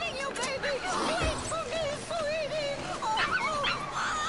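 A dog whimpers and yips in a string of high, wavering cries that keep rising and falling, fairly close and steady over a low background with possible faint voices.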